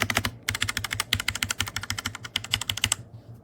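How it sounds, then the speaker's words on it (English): Fast typing on a KOORUI wired 104-key RGB backlit mechanical keyboard produces a close, loud run of crisp keystrokes with deeper thocks from the stabilized keys, followed by a brief quiet tail. "It sounds absolutely amazing, and listen to stabilizers."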